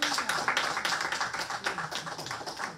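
A church congregation claps hands together, a dense burst of many overlapping claps with a roughly steady rhythm, fairly loud and close, with no clear voices over it.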